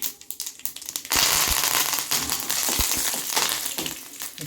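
Curry leaves drop into hot oil already sizzling with mustard seeds and urad dal, a sudden burst of loud spattering crackle after a quieter second of popping, continuing as a busy sizzle.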